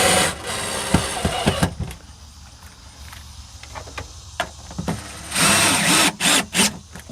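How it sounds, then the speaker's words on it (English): A cordless power drill drives screws into camper galley cabinets in a modular camper, with short whirring bursts between clicks and handling noise, ending in longer loud runs nearby. "reinstall your 3 screws holding the cabinets down"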